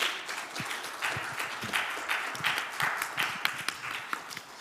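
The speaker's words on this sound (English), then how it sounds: "I would like to invite you a warm round of applause for our panelists today" A conference audience applauds panelists at the end of a session in Jeju, a quiet, steady patter of many hands clapping at a distance, continuous for several seconds.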